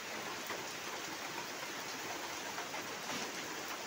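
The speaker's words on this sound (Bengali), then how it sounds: "বৃষ্টি পড়তেছে আর আমাদের দোলনাটাও ভিজে গেল। সকাল সকাল বৃষ্টি শুরু হয়ে গেছে।" Morning rain falls steadily outside a rural home, a dense continuous hiss of drops at an even level throughout, with no other sounds standing out.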